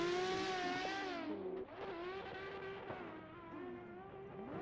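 Drift cars roll to the start line during a VDC 2022 qualifying round at Tocancipa, their engines humming in a steady, rich idle that rises and dips with throttle blips, close and continuous.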